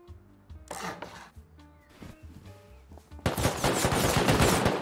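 Automated turrets firing on a base in a survival game, with scattered sharp gunshots and a few sparse hits early, then a sustained loud barrage of rapid fire erupting near the end.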